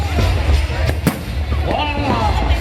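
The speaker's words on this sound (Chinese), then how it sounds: "在这里可以看到全桃园市的烟火" New Year's Eve fireworks burst over Taoyuan City, viewed from a hillside restaurant, as dull booms and crackles mixing with crowd chatter in a steady rumbling background.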